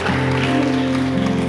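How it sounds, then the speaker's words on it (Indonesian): A church congregation claps for Jesus during a service, a steady wash of applause lasting the whole moment and mixed with sustained musical tones. "Berikan tepuk tangan untuk Tuhan Yesus."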